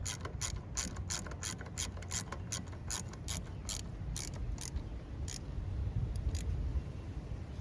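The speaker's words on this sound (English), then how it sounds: "Tighten down the nuts first, that way it doesn't walk off on us." Rapid clicking of a ratchet tightening nuts on a 2001-04 Kia Rio brake line, a fast, even series of sharp mechanical clicks, close and fairly quiet, with brief pauses near the end.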